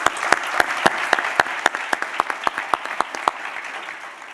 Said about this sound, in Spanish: pedir un aplauso para estos ponentes